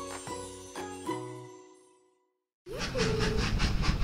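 A cartoon train named Troy runs along to a jingly musical tune of bright chimes. After a brief silence, a loud, steady rumble begins with a sliding tone and a pulsing chug.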